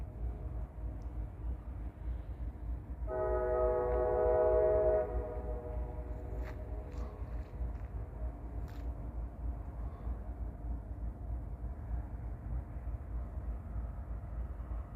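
A BNSF switcher locomotive sits in a rail yard at Abbeville, about one to two miles off. A faint, distant horn sounds for roughly two seconds over a steady low background rumble.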